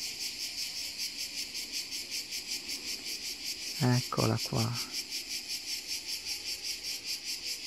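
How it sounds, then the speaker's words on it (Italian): A cicada buzzing close by in a rhythmic pulsing drone, loud and continuous, with a brief soft spoken phrase partway through. "La cicala."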